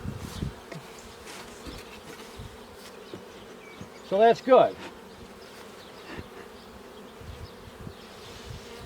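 Honey bees buzz around a hive cover, a faint steady hum of many insects with a brief louder burst of a bee passing close midway, and a few quiet words spoken.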